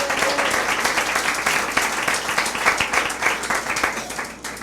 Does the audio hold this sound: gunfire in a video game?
no